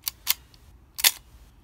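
A Nikkormat camera with a cobalt square shutter cocked and fired at 1/1000 second, giving two crisp close clicks followed by a louder snapping double click, with no talking.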